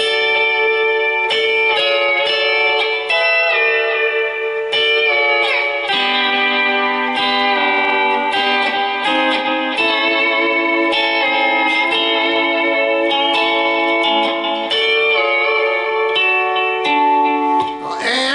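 Sustained, shimmering lap steel guitar tones with sliding pitches and repeated plucked attacks, a fingernail raked across the strings, ringing continuously and loud with a metallic, reverberant character.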